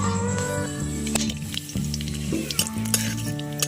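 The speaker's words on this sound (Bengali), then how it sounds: "হালকা করে কাজু বাদামটা ভেজে নেব" Cashew nuts frying lightly in hot oil for basanti pulao, a steady close sizzle running throughout with a low sustained hum and occasional stirring clicks, no voices.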